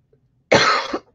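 A person coughs hard once at close range, a harsh burst lasting about half a second in a quiet indoor craft workspace, followed immediately by the start of a second cough.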